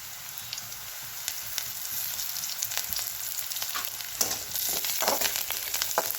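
Chopped onion and other poha ingredients sauté in a pan, producing a continuous, even crackling sizzle close by, broken now and then by soft stirring scrapes.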